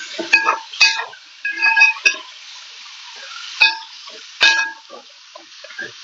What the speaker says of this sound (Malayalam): എന്നിട്ട് നമുക്കിതാ ഒന്നും കൂടി നന്നായിട്ട് ഒന്ന് ഇളക്കി കൊടുക്കാം.